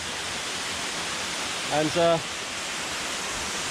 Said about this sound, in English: here we are at the first waterfall.